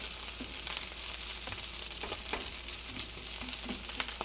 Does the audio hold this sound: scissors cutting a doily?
no